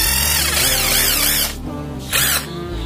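A cordless impact driver, a few months old, runs loud and close in two bursts with its rattling hammering whine, broken by a short pause near the middle.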